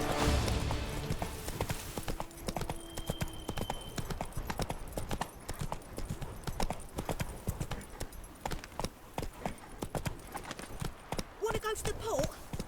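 Horse hooves galloping in The Witcher 3, a rapid steady clip-clop of hoofbeats running the whole stretch, with a spoken voice briefly over it.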